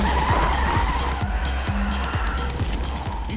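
A car skids through a controlled drift on a practice track in a French cartoon, with a loud continuous engine drone and tire noise and a few short squeal-like bursts layered over it.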